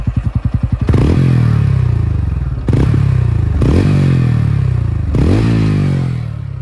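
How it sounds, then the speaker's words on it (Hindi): A TVS Ronin 225 motorcycle exhaust putters at idle, then is revved hard three times, each surge a loud, close roar that climbs and falls back with no talk over it. "अभी जो ना एग्जॉस्ट साउंड आप सुनो"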